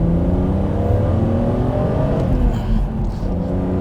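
A BMW Z4 M Coupe engine revs hard and accelerates up through the gears, its rising growl loud and close, with a brief shift midway.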